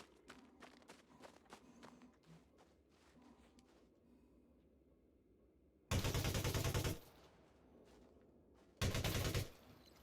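A Karma AR-50 rifle fires in a video game, letting off two loud, dense bursts of rapid automatic fire about a second each with a short pause between them, over quiet background game sounds.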